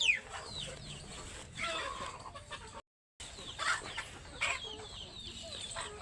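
Native desi chickens cluck in short, irregular bursts at close range, broken by a brief moment of silence midway, with no talk.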